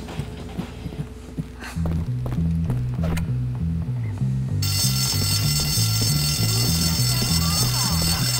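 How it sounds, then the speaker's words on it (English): A school fire alarm rings in Bully: Scholarship Edition, a loud, steady electronic bell that starts partway through and carries on without a break over an alternating low pulsing tone. "I don't know who set that alarm off."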